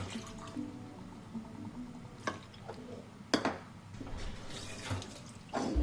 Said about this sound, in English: So I'm going to add water.